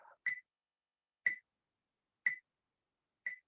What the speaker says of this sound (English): I'm gonna turn the beeping off